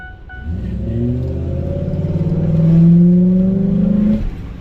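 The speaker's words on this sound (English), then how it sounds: "Sounds like the exhaust is completely plugged." A 2008 Ford F-150 with the 5.4-litre 3-valve V8 and a plugged exhaust revs up close by, its muffled rumble rising steadily then easing off over a few seconds, with no talking.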